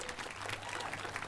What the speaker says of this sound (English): Round of applause for all the adults who gave time